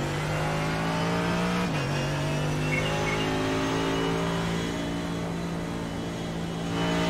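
A Ferrari race car in iRacing during an IMSA race at the Nürburgring, its engine droning steadily at high revs with a pitch drop as it passes close by, loud and continuous throughout.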